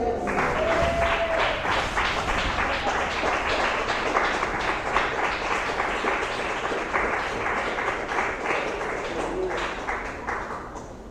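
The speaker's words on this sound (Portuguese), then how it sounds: "Pode se assentar e glorificar o Senhor com palmas bem alegres." A church congregation claps joyfully in a steady, even rhythm, with many hands beating together in time, holding close and lively for several seconds before easing slightly at the end.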